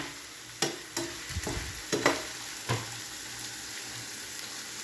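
Garlic, onion, ginger and chili sauté in a pan with a faint, steady sizzle, broken by a few sharp scrapes and stirs of a utensil, close and quiet.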